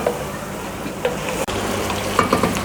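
Okra fries and sizzles with spices in a pan, stirred continuously, with a steady close hiss and a few soft scraping knocks and one brief clunk.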